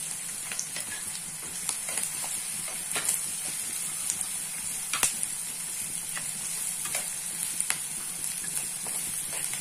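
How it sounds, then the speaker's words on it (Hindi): Poha ingredients with coarsely crushed garlic and peanuts stir-frying in a pan, a steady close sizzle with repeated scraping clicks of the spatula throughout, no voices. "स्टर फ्राई कीजिए।"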